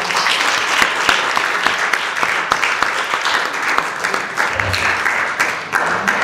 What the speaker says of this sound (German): Also sehr reger Applaus hier im Saal